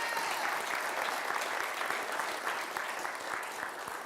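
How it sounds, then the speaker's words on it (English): Audience members at a holiday benefit concert clap in a dense, sustained round of applause, moderately distant and even, easing slightly toward the end. "can we just get a round of applause for that?"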